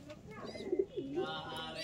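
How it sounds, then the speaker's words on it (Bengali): Kept pigeons in a loft where chicks are being fed give two soft, throaty coos close by, each a short rising-falling purr, with faint background noise around them. "দেখুন বাচ্চা উঠেছে, বাচ্চা খাওয়াচ্ছে, ফিডিং করেছিল পায়রা।"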